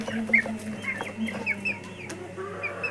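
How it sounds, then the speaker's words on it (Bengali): A Sonali hen on a poultry farm clucks in a run of short, close calls over a low background hum, with no one speaking. "এটা আমাদের সোনালী মুরগিটা।"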